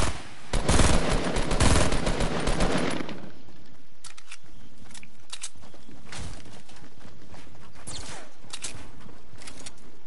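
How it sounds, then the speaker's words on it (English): Rapid automatic gunfire bursts in Fortnite, loud and close for the first three seconds, then scattered fainter shots popping at a distance through the rest of the clip, with no talking. "Oh, shots."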